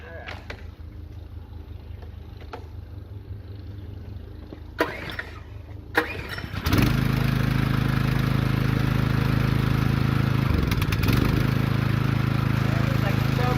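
A Generac One Wash gas power washer is cranked and started without the choke: handling noises and pulls, then the small engine catches near seven seconds and runs steadily and loudly up close.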